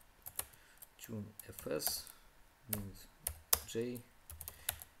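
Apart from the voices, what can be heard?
typing a command on a computer keyboard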